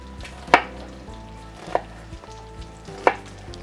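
A knife cutting through a medium-sized yellow onion on a cutting board, three distinct sharp chops spaced about a second apart over a low background hum.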